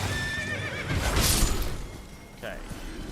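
A horse whinnies in Elden Ring, its neigh rising over hoof clatter and game effects, with a person talking throughout.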